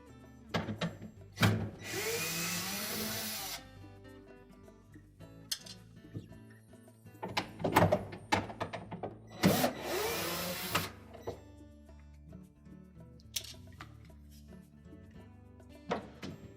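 Screws being backed out of a motor mount on a GE refrigerator freezer wall, with bursts of a power driver whirring in short runs between clicks, scrapes and handling knocks, moderately close with no talk.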